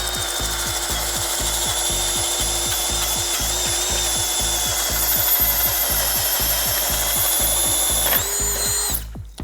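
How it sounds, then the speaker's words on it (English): A Ridgid brushless subcompact cordless drill whirs steadily driving a bit into wood while a fast, regular clicking pulses underneath; the motor runs continuously and then cuts off near the end. "Nice amount of torque for a subcompact drill."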